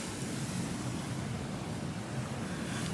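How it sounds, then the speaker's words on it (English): Steady blustery wind rushes past at Manchester Airport on a wet day, a constant broadband roar with low rumbling buffeting, loud and unbroken throughout. "you might be able to hear the wind."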